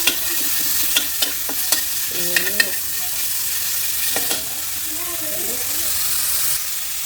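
Pork sizzling and stir-frying in a hot pan, a steady hiss with sharp clinks of a spatula scraping and tossing, and brief faint voice fragments in between.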